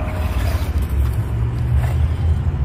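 A Rlaarlo RC car drives around a parking lot with a continuous, close motor whir and low rumble that stays fairly even, loud against a faint outdoor background.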